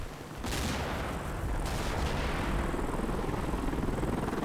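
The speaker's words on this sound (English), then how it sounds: "Helicopter noises start happening." Helicopter in the war game Combat Mission: Black Sea, a steady loud rotor roar that starts abruptly and holds throughout, mixed with distant rumbling that may be gunfire.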